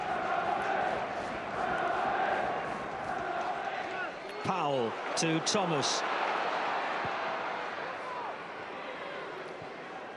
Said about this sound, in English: Charlton crowd growing in expectation as their team push forward more